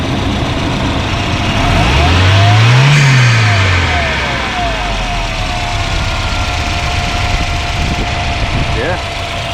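A Volvo 940 Turbo with a small rocker cover oil leak runs close by, its engine rising in one revving sweep and then settling back to a steady idle, with brief talk over it.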